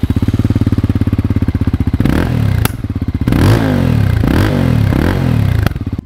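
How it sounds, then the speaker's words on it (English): Stock-exhaust Voge 300 Rally light adventure motorcycle revving and pulling away on a road, a steady thumping idle giving way to loud repeated accelerations with rising engine pitch and brief gear-change dips, close and continuous with no talking. "the sound of this bike is quite impressive"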